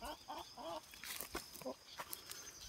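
Farmyard chickens clucking in short, soft bursts, fairly faint and mixed with other low background sounds.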